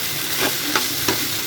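Water lily stems with hilsa fish fry in a pan with turmeric, chili and salt, no water added, giving a steady close sizzle with a few soft stirring clinks and scrapes. No one speaks.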